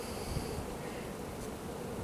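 A steady, low hum of many honey bees buzzing close by on a hive frame, continuous and fairly faint, with no talking.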